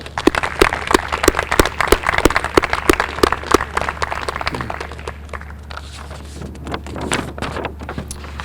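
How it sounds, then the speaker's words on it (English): Applause at a high school graduation ceremony, sharp individual claps ringing close and distinct at first and then thinning out under a low steady background hum. "if we could just join me in a round of applause for Marina."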